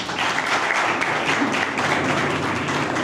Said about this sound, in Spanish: El aplauso sonoro para Elizabeth Díaz